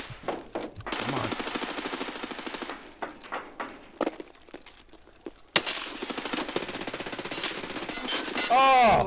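Rapid automatic gunfire in a shooter video game, repeated bursts of crackling shots with short gaps, loud and close. Some quieter footstep-like sounds fall between the bursts, and a loud tonal sweep comes near the end.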